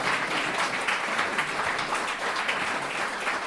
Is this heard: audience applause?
yes